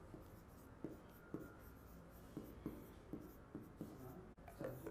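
A pen scratches on paper while a maths solution is written out by hand, with soft strokes and periodic light taps over a faint steady background hum, close and quiet.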